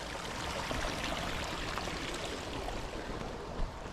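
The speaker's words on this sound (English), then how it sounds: "Got a tiny, tiny, tiny little waterfall formed with puddles, and it's raining" Tiny waterfall fed by rain puddles beside a rural Cornish railway line trickles in the rain, giving a faint, even, hissing wash of running water with no other sounds standing out.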